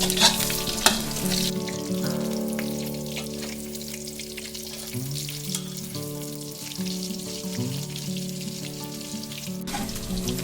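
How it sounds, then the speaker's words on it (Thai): Pork belly for a Thai fish-sauce stir-fry frying steadily in hot oil, a continuous close sizzle and crackle with no talking. "ทำให้เราทอดได้สบายใจนะคะ ไม่ต้องกังวลเรื่อง น้ำมันกระเด็นเลยค่ะ ช่วงนี้เราก็ทอดไปเรื่อยๆเลยนะคะ"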